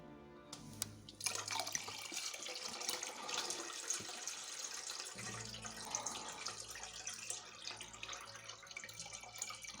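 Fermented home-distilling wash made with brown sugar and pearl barley siphoned through a tube, a steady close trickle and splash of liquid pouring, with a faint gurgle at the start.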